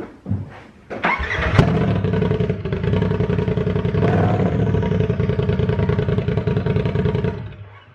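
A Polaris RZR turbo engine running straight-piped with no muffler cranks with a few clacks, fires up sharply and settles into a loud, raspy, throbbing idle that holds close and steady before cutting off.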